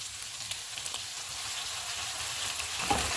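Tomato puree sizzles and fries in a pan while garlic chicken cooks, giving a soft, continuous hiss with faint stirring scrapes and no talking.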